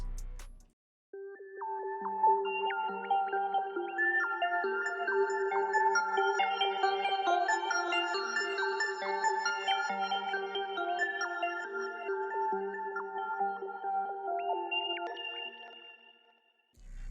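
A bright synth arpeggio from the Hive preset SD Symphonic Dance plays alone, a steady stream of rapid stepped notes sustained for about fifteen seconds, swelling in and fading out at the end.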